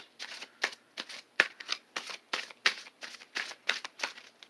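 Tarot cards being shuffled and drawn, a rapid series of close, crisp riffles and flicks in an irregular rhythm, alone with no talking.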